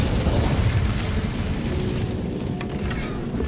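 Incendio fire spell cast in Hogwarts Legacy, a loud sustained roaring burst of flame with a rumbling low end that holds steady for several seconds, close and dense with no clear talk.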